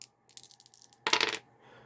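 Dice clatter across a tabletop during a tabletop role-playing game, a short series of light clicks followed by a louder rattling tumble and settling, close and alone with no talk.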